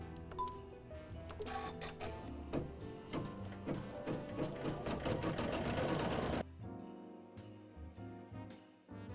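Embroidery machine stitching stars onto mini fringe trees, a steady rapid mechanical chatter of needle strokes that runs continuously, then drops to lighter intermittent ticking near the end.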